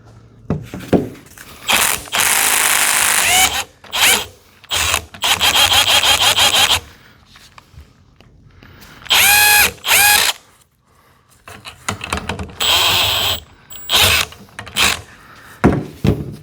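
A socket tool spins a shock absorber nut on a 2008 Mazda3 in several separate loud ratcheting bursts with pauses between them, close and clear.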